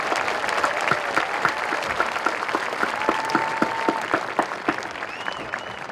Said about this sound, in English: Please join me in a round of applause to acknowledge everyone who has helped to make this event